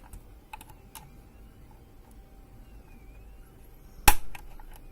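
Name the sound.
sharp pop of C-ring pressed onto screw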